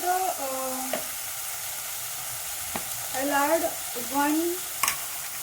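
Capsicum and carrot sizzle in a pot while being roasted for Mexican beans rice, with a soft steady frying hiss, a few sharp utensil clicks and a voice speaking intermittently over the cooking.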